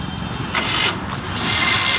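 A Mahindra Champion tractor engine cranks and catches, then settles into a rough, loud rumble with uneven bursts of noise over two seconds.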